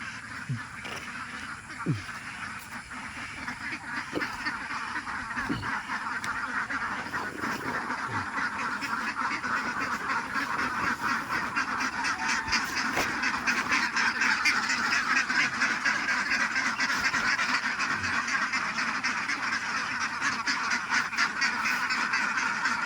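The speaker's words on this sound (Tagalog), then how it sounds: "Ito ang tangkal ng itik ko." A flock of ducks in their coop gives off a continuous chorus of quacks and honking calls, moderately close, with a low murmur of voices faintly in the background.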